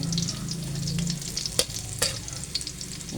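Garlic sautéing in a pan, a steady sizzle and crackle of frying with a couple of sharp stirring scrapes against the pan partway through, close and clear with no talking.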